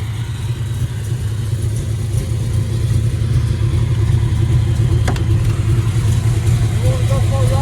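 A 1967 Chevelle SS 396 V8 runs steadily close by, a loud, continuous low engine rumble that holds rich and even throughout, with a voice briefly talking over it near the end.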